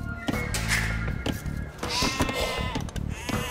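Sheep bleating in Age of Empires II, a few distinct close bleats mixed with clicks and other game effects, fairly loud and without talk.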